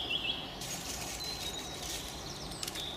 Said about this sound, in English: Listen to that song thrush.